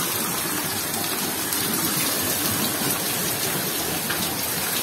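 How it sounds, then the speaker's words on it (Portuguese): Heavy rain in Ceará, northeastern Brazil, pours down steadily in a dense, unbroken hiss, close and loud, with no voices. "Primeira chuva que dá no Nordeste aqui"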